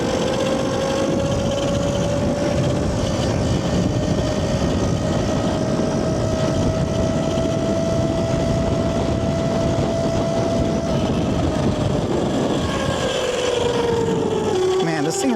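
Yozma IN 10 electric dirt bike with a new tune and Supermoto wheels, ridden at speed: a steady, loud whine that rises slowly in pitch over heavy wind and road rumble, easing off near the end.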